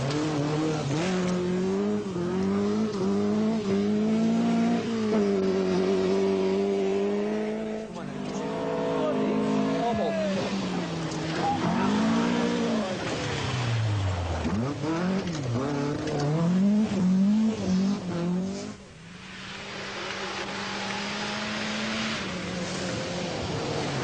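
Malcolm Wilson's Ford Escort rally car roars through a stage during the 1980 rally season, its engine revving up and down with shifting pitch and a brief sharp drop near the end.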